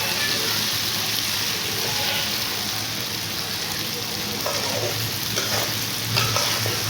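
Tomatoes frying and softening in a pan for achari bhindi, stirred with a spoon; a continuous close sizzle with scraping stir strokes, no voices.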